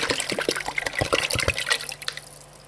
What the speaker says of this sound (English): I'm going to add the V8 juice.